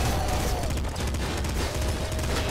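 Rapid gunfire from a weapon in the top-down shooter video game Nuclear Throne, a dense continuous burst of shots filling the whole moment with no pauses, loud and close.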